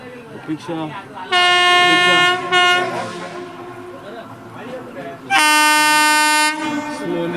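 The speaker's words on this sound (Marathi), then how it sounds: "येते आहे मंगला लक्षद्वीप एक्सप्रेस" The Mangala Lakshadweep Express passes close by arriving at a station, with two long, loud horn blasts, the rumble of wagons continuing between them while people talk nearby.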